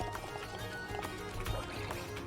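Water splashes and trickles in the Minecraft-style pirate game Pirates SMP, a continuous liquid wash with small louder bursts running throughout.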